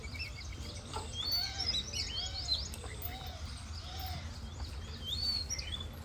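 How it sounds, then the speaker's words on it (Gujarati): Several bright, high bird calls ring out over a steady outdoor hum, a few short squawk-like notes repeating irregularly at moderate distance. "આ તો પોપટભાઈ આયા પોપટભાઈ."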